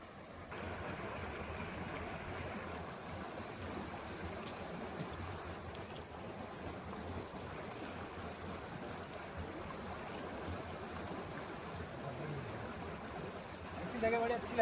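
A tributary stream of the Narmada river in India flows with a soft, steady rushing wash, fairly faint and unbroken, with a slight rise in the final moment.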